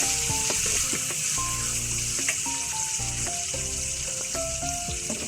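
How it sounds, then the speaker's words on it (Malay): Chicken varuval sautés in a pan, a loud, continuous sizzle close by with intermittent scraping stirs and light clatter of a spatula, and no talking. "Tumis biar dia jadi naik harumnya."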